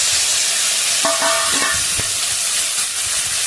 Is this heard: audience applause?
no